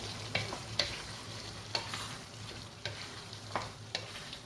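Sicilian caponata vegetables are stirred in a pan, with soft sizzling under a series of scraping, clacking strokes spaced unevenly, fairly quiet and without talk.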